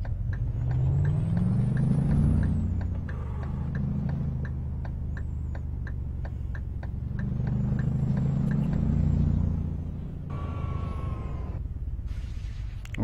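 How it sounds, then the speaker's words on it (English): A Scania T tandem truck hauls a load on a run from Berlin to Leipzig, its engine drone steady and near with rising and falling swells and a faint high whine on top. "We're in a Scania T."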